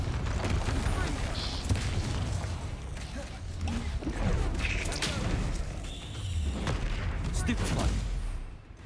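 Bombarda and Confringo explosion spells from the video game Hogwarts Legacy, a rapid series of booming blasts and crashes layered with spell-casting voices.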